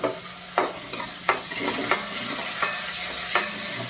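Curry leaves and dried red chillies sauté in oil, a constant close sizzle punctuated by regular scraping strokes of a spoon stirring the pan every half second or so.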